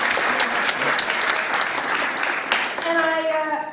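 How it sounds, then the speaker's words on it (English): A packed house breaks into dense, sustained audience applause that stays loud and steady throughout, with a few voices and whistles rising near the end. "So you should give yourselves a big round of applause."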